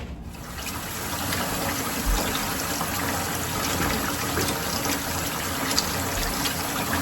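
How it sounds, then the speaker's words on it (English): A kitchen tap runs cool water into a sink, a steady, loud rushing gush that continues unbroken throughout without pause. "I'm going to put a couple of inches of cool water in the sink"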